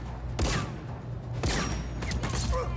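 Heavy weapon fire in Just Cause 4 rings out as two loud, sharp blasts about a second apart, each trailing off, followed by a softer third burst and some scattered mechanical noise.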